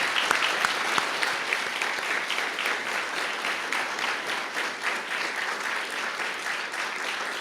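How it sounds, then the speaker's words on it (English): A room of guests at a National Press Club luncheon applauds steadily for several seconds, a dense patter of many hands heard alone without talk. "How about a round of applause for our witness?"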